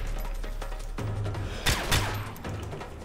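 Several sharp gunshots crack over a low rumble in Call of Duty: Modern Warfare 3, including a quick burst near the middle, game gunfire at moderate volume with no talk.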